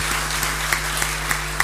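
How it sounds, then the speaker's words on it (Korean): Moderate, even applause from a congregation at an early-morning church prayer service, a soft continuous wash with a few sharper claps standing out over a steady low hum. "크게 박수 한번 주시면 어떻겠습니까?"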